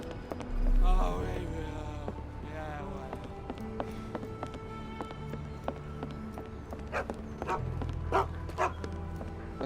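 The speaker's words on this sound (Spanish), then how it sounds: "Pasa el perro." A dog trots past in the detective video game Sherlock Holmes The Awakened, with light footfalls and a few barks amid background music, while someone talks over it.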